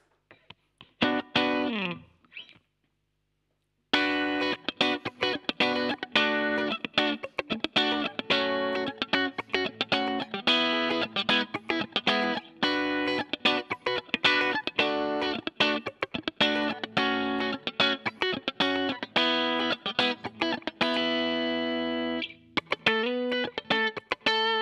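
Electric guitar played through a Steel String Supreme pedal set to its supreme side, distorted with chorus-like modulation; a short phrase, a brief pause, then a long run of rapidly picked notes ending on a sustained chord, with no talking.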